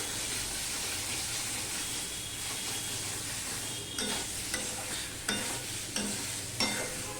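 Broccoli stalks stir-fry in curry masala in a wok, with a steady low sizzle throughout and several crisp spatula scrapes and knocks toward the end, heard up close with no talking.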